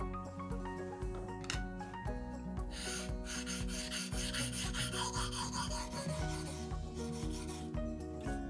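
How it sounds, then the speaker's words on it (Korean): A deba knife is being sharpened on a Chosera 1000-grit whetstone, with repeated rhythmic rasping strokes of steel on stone heard up close over a steady tonal background. "초세라 1000번으로 연마를 진행하겠습니다"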